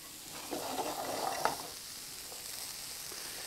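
Carrot being stirred through in a hot frying pan, a scraping, shuffling stir over a steady sizzle that swells for about a second and then settles into an even background fry.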